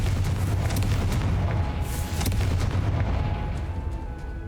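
A Confringo fire spell in Hogwarts Legacy bursts with a deep, rumbling blast whose dense low roar fills the scene and slowly fades over several seconds.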